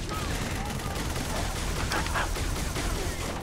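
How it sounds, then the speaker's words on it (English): Sentry gun firing in Halo 3, steady rapid automatic gunfire filling the whole stretch, loud and dense with explosive bursts mixed in, a voice talking over it. "They were waiting on us with a sentry gun."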